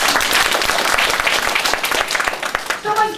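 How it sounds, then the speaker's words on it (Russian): An audience in a hall applauds during a staged mock-trial show, with steady clapping that rises and dips over a few seconds, voices mixed in, and a brief tonal sound at the very end. "Аплодисменты в зале."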